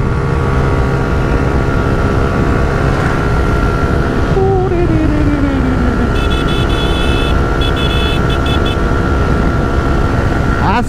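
Suzuki Gixxer Monotone motorcycle engine held at full throttle near its rev limit, a loud continuous drone that stays steady, with a brief falling whine partway through.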